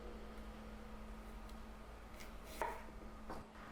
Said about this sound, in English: This time we're going to place them skin side down and just cut straight down through the core.